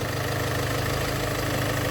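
A car engine running at idle just after an oil and filter change, a steady low hum with faint vibration, even and unbroken throughout.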